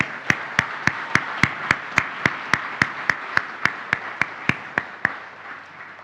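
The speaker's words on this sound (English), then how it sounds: "A round of applause for our new team members." Rhythmic clapping greets new team members at an annual meeting, sharp regular claps in unison at a steady beat for about five seconds over a faint crowd murmur, then stopping.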